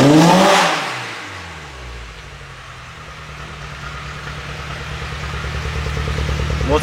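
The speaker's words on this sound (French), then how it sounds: "Mais regarde, t'entends comment elle réagit. Genre, je donne gaz à fond." A tuned Mazda MX-5 engine with a power fault, starting on a loud rev that drops away, then climbing again in a steady rising drone under full throttle.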